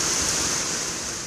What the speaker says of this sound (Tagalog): Nakaranas pa rin ng malakas na buhos ng ulan ang ilang bayan sa Ilocos Sur